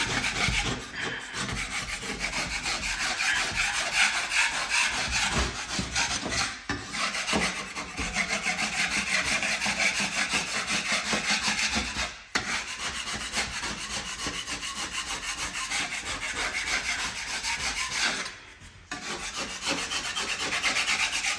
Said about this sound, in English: Now I'll go ahead and smooth the rest of it out, get these little higher dips off with the sandpaper